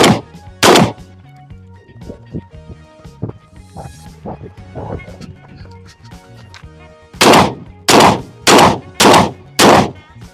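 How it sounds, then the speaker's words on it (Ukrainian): Two sharp, booming 12-gauge shotgun shots ring out at the start, then after a quieter stretch of clatter, a rapid series of five heavy blasts follows close by. "Постріл!"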